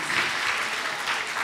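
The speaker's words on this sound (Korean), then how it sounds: "한번 큰 박수를 보내주시면" Audience applause at the 6th Yeongsan Humanity Contest ceremony, a steady wash of many hands clapping, moderately loud and even throughout with no voices over it.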